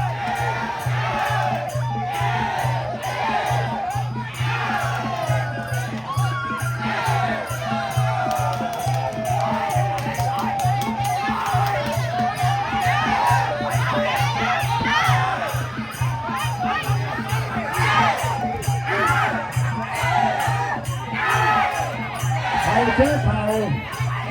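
Spectators at a Muay Thai fight keep up a continuous roar of shouting and chatter over a constant low hum, while a commentator talks excitedly throughout.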